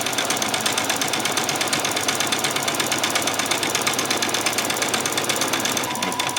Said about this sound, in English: Back stitch, and I'm just going to go all the way.